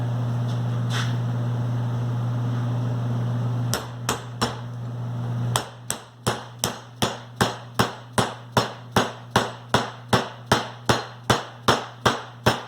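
A hammer pounds a flat steel plate to drive a Johnny joint onto a 1-3/4-inch tube: a few scattered strikes give way to a long, steady run of loud, ringing blows over a low background hum.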